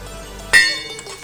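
A single sharp metallic clink as a lid is set onto a pan of frying dal vadi in a home kitchen, with a brief ringing tail and faint kitchen sounds afterward.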